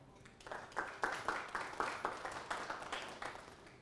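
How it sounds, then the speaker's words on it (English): A small audience claps at a leadership talk in a hall, a soft, even patter of hand claps sustained for a few seconds at moderate distance. "Let's applaud your Made."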